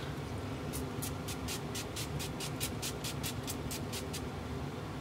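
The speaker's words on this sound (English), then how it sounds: "This is the NYX Dewy Finish, and I'm just gonna squitz my face." NYX Dewy Finish setting spray misted onto a face: a rapid series of about fifteen short, hissy pumps in steady rhythm, close up, over a constant background hiss.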